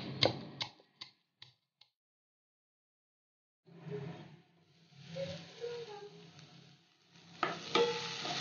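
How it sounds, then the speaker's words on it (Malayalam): Onions sautéing in a covered pan for beef keema, a soft low sizzle with faint stirring that comes in after a few sharp clicks and a pause of silence, then swells and fades unevenly. "ഇനി ഇതൊന്ന് മൂടി വെച്ച് വഴറ്റിയെടുക്കാം."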